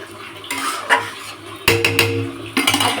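Rinse water from a mixer jar is poured into a cooking pan with a spice masala, and utensils clatter and scrape against the pan in several close, loud bursts with sizzling underneath.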